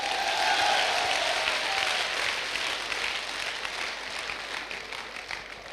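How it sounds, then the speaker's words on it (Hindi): Audience applause at an inspirational speech: a dense crowd clapping loudly from the start, holding steady and then slowly thinning as it fades. "ताली हो जाए आप लोगों के लिए।"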